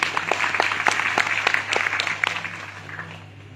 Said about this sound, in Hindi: ताली बजाइए इन भाइयों का दोनों।